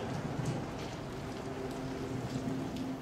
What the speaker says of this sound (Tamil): இவ்வளோ அதிகமாக மழை பெஞ்சிட்டு இருக்கும்போது